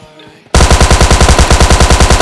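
Rapid automatic gunfire from the mobile shooter PUBG Mobile Lite bursts in suddenly after a quiet moment and continues as a loud, evenly spaced stream of shots.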